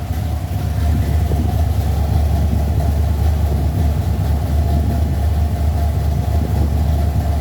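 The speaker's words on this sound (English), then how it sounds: "Let's get set up for a rev up." A steady, loud engine drones at a constant pitch, a deep continuous hum with no clear rise or fall, holding the same level throughout without any voices.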